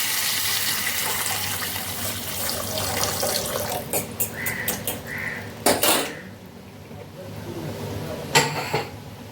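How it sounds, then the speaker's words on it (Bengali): Water poured into a cooking pan, a running gush that thins into sputtering splashes and brief pops, close and fairly loud, with a faint voice in the background. "এবার একটু জল ঢেলে দেবো।"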